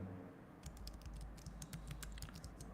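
Quiet, rapid clicking of keys on a computer keyboard, typed in quick uneven bursts close by with no other sound.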